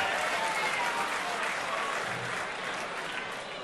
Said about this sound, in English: That's Ellie, Sago's wife, applauding.